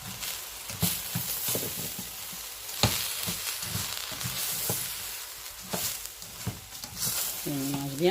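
Sautéed basmati rice with turkey and peas is stirred in a pan, soft scraping strokes and a gentle sizzle with irregular taps of the utensil, a faint voice briefly heard near the end.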